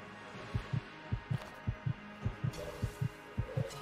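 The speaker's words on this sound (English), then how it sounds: "Rather large heartbeat going on." Loud, deep heartbeat in the game Enter the Gungeon, a steady thump-thump double pulse repeating about every half second, close and booming over a low hum.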